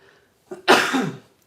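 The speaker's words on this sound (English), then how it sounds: "made it all the way through with one little cough" A person gives one small, close cough: a short catch of breath, then a single breathy burst that tails off into quiet.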